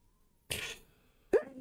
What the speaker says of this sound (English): Sneeze again.